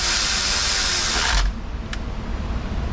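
A power tool whirs loudly on a 2.5-litre Subaru Forester engine while the bottom timing cover bolts are driven in, then cuts off abruptly, leaving a brief click and low background hum.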